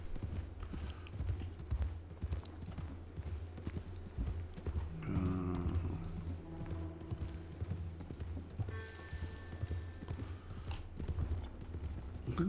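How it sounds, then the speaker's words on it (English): Horse hooves clip-clopping steadily while riding in the video game Red Dead Redemption 2, a continuous rhythmic gait heard up close with brief louder bursts of other game sounds partway through. "Yeah, I'm on a horse."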